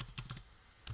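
A few crisp keyboard clicks while typing a window type name, small clusters of close, quiet taps separated by a brief pause.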